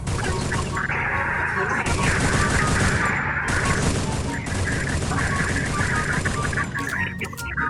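Gunfire in a mobile battle-royale game, with an M79 grenade launcher in play: a dense, continuous barrage of loud shots and crashing impacts. A voice talks over it throughout.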